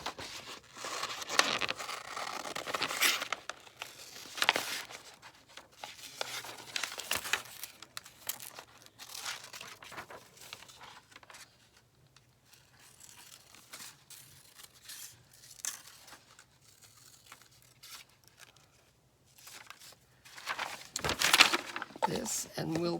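Paper being cut out for an index-card note page, likely with scissors: intermittent crinkling, snipping and rustling in bursts, close and fairly quiet, with soft handling noises between.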